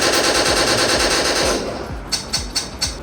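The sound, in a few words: laser tag blaster firing in a real-life game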